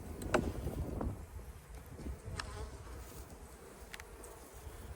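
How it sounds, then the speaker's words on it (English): A low, continuous buzzing drone of many bees in an open hive, with a few sharp knocks and some wind rumble over the top. "You see the roar of those bees in there."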